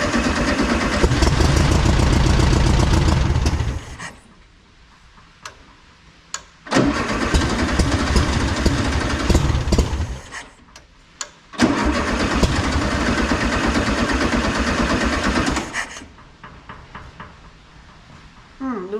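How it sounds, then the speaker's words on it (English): A 1974 VW Beetle engine, abandoned for 30 years, is cranked several times and roughly catches. Loud bursts of engine noise run for a few seconds each, separated by quieter gaps. "Let's get this car started up."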